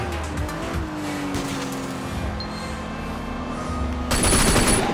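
A car in the Sleeping Dogs video game drives with a rising engine drone and tires squealing in long sustained skids, then a sharp burst of louder crash-like noise near the end.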